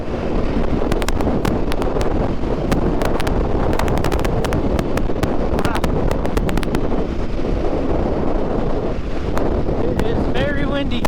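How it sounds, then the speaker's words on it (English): Strong, steady wind at an off-road riding area in Texas buffets the microphone throughout, a constant loud roar with gusty crackles and no pause. "It is very windy."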